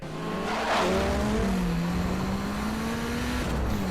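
A truck skids through a movie chase scene, its tires squealing in a long, loud, steady rising whine over a constant engine roar that holds for several seconds.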